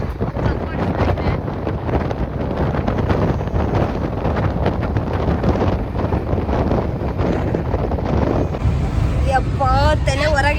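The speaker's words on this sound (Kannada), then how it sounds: "ತಲೆ ಹೊರಗಿಟ್ರೆ ಗಾಳಿ ತಣ್ಣಗೆ ಬರ್ತೈತೆ, ಫುಲ್ ಹೆವಿ ಗಾಳಿ ಬರ್ತೈತೆ" Strong, steady wind roars past an open window of a fast-moving express passenger train near Mandya, a dense continuous rush that stays loud throughout, with a faint wavering tone rising near the end.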